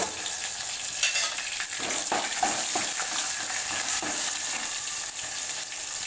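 Garlic, dal, mustard seeds, cumin and dried red chillies fry in hot oil as a tempering for a brinjal and pea curry, giving a steady close crackling sizzle with scattered pops and spatters, no voices.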